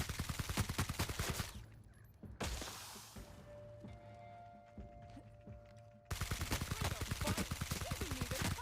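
Rapid bursts of sci-fi gunfire in Outer Worlds: Spacer's Choice: a dense, loud volley opens, fades to quieter rumbling ambience with faint tones, then another close, rapid string of shots erupts.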